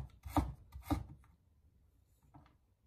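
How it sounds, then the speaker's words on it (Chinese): A knife cuts a small piece of peeled ginger into thin slices on a cutting board: two crisp chops close together, then fainter soft cuts, quiet and close with no talking. "再准备一小块生姜，将它去皮后，同样的改刀切成小姜片"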